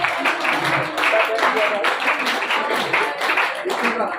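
An audience at a youth festival applauds a painting competition winner, with lively clapping mixed under a talking voice that continues over the sound.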